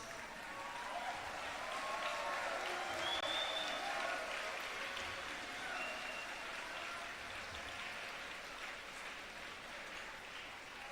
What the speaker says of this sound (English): Please stand up and give him a round of applause.